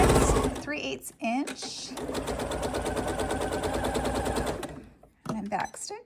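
A sewing machine runs in a long steady burst, basting and backstitching straps on a garment with darts, its rapid mechanical stitching clatter loud and close, with someone talking briefly before and after.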